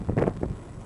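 Gusty coastal wind buffets the microphone in low, rumbling bursts, loud at first and then easing into a steadier blustery hiss.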